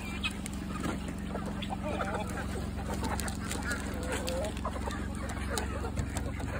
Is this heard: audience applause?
no